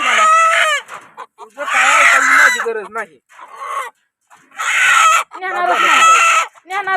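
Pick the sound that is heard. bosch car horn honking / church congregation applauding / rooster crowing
rooster crowing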